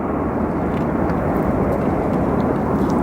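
An Aer Lingus airliner banking in toward O'Hare International Airport, a steady loud jet roar holding constant throughout with no talking over it.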